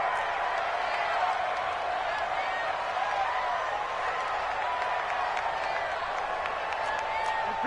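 Stadium crowd in an EA Sports football video game roars in a steady, sustained wash of cheering and applause, with occasional whoops rising above the din.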